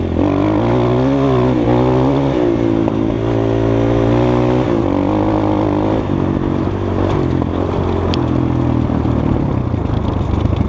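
A Skybike CRDX 250 motorcycle engine runs loud and close with a steady, throaty drone and a little clatter, its pitch shifting slightly as the revs change and no voices over it.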